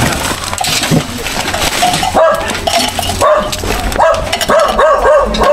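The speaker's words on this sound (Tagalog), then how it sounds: "Ingay naman yung aso." A dog barks repeatedly and loudly nearby, the yaps coming in quick bursts over crunching, splintering noise.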